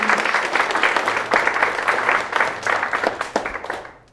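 An audience at a Fulbright scholars event gives a round of applause, a dense burst of close clapping that holds steady and then fades out near the end.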